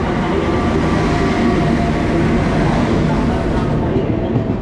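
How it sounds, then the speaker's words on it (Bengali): The SMVT Bengaluru weekly special train pulls into a station with a loud, close, continuous rumble of rolling coaches and steady rail noise. "এই ঢুকছে আমাদের SMVT বেঙ্গালুরু উইকলি স্পেশাল"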